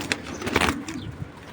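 Soft, low cooing from a khaki naptha pigeon held close by, a few short murmuring notes alongside faint rustling or wing movement.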